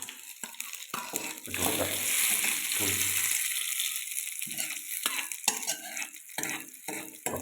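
Mustard seeds crackling in hot oil for a chutney, a sizzling burst with spattering pops amid clinks of a spoon and pan, while a person talks intermittently.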